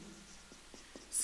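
A pen writes notes during a Hindi-language lecture on Indian polity and constitutional amendment; a few faint, short scratching strokes sit over quiet room tone with no talk.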